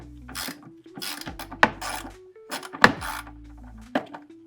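Ratchet wrench backing out bolts on the fuel filter cover of a 2005-2009 V6 Ford Mustang, heard as several close bursts of quick ratcheting clicks with sharp metallic knocks between them.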